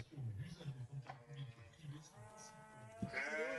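Sheep bleating on a sheep farm in Aveyron, France, wavering bleats at close range under nearly continuous talking.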